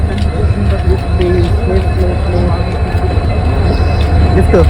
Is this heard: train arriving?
yes